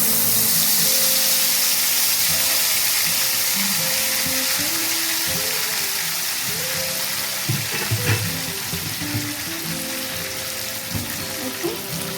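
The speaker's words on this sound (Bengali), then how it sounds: "এবার আমি পেস্টটা দিয়ে দিচ্ছি তেলের মধ্যে।" Spice paste for a pointed gourd and potato curry hits hot oil and fries loudly, a dense sizzle that settles over twelve seconds, with scraping stir sounds near the end and no talk.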